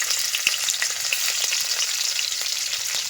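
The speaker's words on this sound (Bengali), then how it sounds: "লঙ্কা কুচিগুলো দিয়ে দিলাম" Chopped chillies frying in a pan with spices give a bright, continuous close sizzle, dotted with small crackles and pops throughout.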